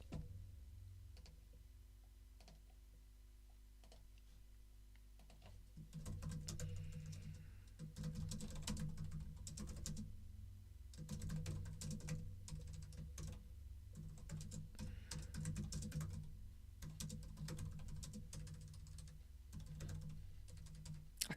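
Quiet, rapid typing on a computer keyboard, a continuous patter of key clicks that picks up after a few seconds and runs steadily over a low background hum.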